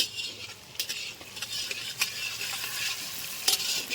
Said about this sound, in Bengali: ফুলকপি, গাজর, বিনস এরা সব ভেজে নিচ্ছি।